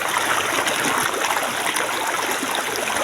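River water flowing strongly into a natural jacuzzi-like pool, a dense, continuous rushing and splashing close by, steady and loud with no talk.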